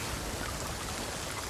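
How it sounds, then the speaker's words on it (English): Rain falling in Sea of Thieves, a steady close hiss of drops with no voices and no breaks. "because it's raining, the bottom feels like water"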